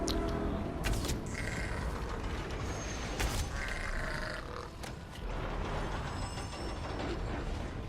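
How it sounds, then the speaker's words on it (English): A loud, sustained mechanical rumble with creaking, grinding tones and metallic clanks as a dolmen powers up in Elder Scrolls Online, like a large stone mechanism starting. "There's the dolmen starting up. That noise is probably familiar to you."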